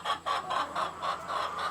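Chickens cluck softly inside a backyard coop, with a run of short, rhythmic, close clucks repeating steadily over a faint background hum.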